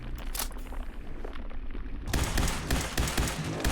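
Gunfire in the video game Fallout 4 comes as a rapid stream of sharp shots and bursts. It runs lighter at first and then grows into a louder, denser barrage partway through, with no voices.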